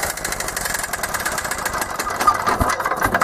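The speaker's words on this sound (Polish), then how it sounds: "Także tak to wygląda, silniczek nasz odpala" Kipor 186F diesel generator engine running close by, a steady mechanical clatter with a rapid knocking pulse and metallic rattle, loud and continuous without any talk.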